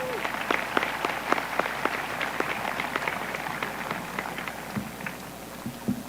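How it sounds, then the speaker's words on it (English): Graduation crowd applauding the school board at a high school ceremony, a steady patter of many hands clapping at moderate distance, sustained for several seconds with scattered louder claps. "Let's please give them another round of applause."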